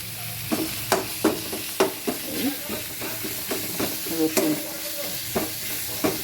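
Seven or eight garlic cloves fry in a pan with a steady sizzle, broken by regular scraping strokes of a spatula as they are stirred, close and fairly loud, with no talking.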